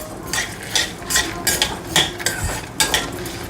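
Toor dal and garlic cloves being stirred and roasted in a pan, a metal spatula scraping and clinking against the pan in steady, repeated strokes, close and fairly loud with no talking.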